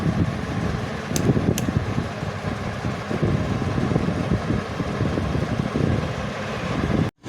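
A small mini air cooler's fan hums and whirs steadily, with a faint watery pump sound beneath from its water pump mode; a couple of sharp ticks early on, then it cuts off abruptly.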